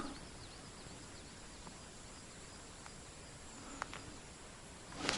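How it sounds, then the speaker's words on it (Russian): In a quiet spring forest in the early morning, a few faint, scattered bird chirps break through soft background hiss at irregular intervals, with one slightly louder call near the end. "Птицы поют. По-осеннему уже поют."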